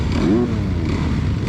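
Motocross bikes roar and rev hard together at a race start gate, a dense, loud engine drone with a rising whine, close by and continuous.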